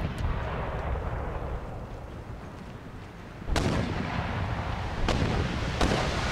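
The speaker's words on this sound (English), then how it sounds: "Wait till that flag pops up and this puckle gun starts pounding." Puckle gun firing in a Total War battle, a low rumbling battlefield backdrop broken by three sharp, loud gun reports, the first heaviest, spaced a second or so apart.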